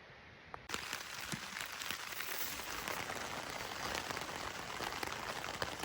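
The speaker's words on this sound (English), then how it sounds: "It's raining outside." Rain falling outside a tent at night, a dense, even patter of drops on the fabric that starts abruptly and then holds steady and close, with no voices.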